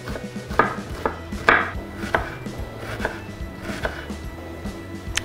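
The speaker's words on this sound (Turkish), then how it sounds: "minik minik, küp küp doğrayacağım." A knife dicing half a small red onion into tiny cubes on a board, with steady rhythmic chopping taps and a few louder strikes, close and clear with no talking.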